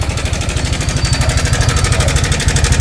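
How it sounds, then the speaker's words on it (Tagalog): A steady, rapid mechanical clatter from a running engine with a worn stock tensioner, loud and close, with a regular ticking rhythm throughout and no voices. "Ingay na makina."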